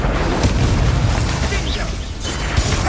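Incendio fire spell cast in the video game Hogwarts Legacy, a loud booming burst of flame over dense game action and music, with a second crackling flare near the end.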